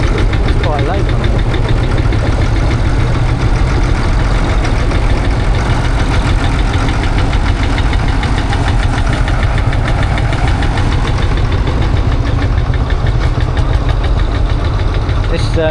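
A Field Marshall diesel tractor engine idles at a steam rally in Welland, Worcestershire, with a loud, steady, knocking chug heard close up, and a person talks alongside it.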